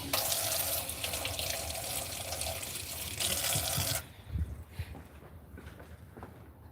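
Water runs steadily from a tap into a sink during washing up, a dense close hiss that stops abruptly, followed by quieter splashes, drips and handling of wet items.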